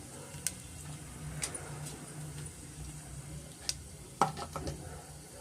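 Whole fennel seeds, cardamom, cinnamon and bay leaf fry quietly in a pan with a soft, steady sizzle, broken by scattered small ticks and pops and a brief clink near the end.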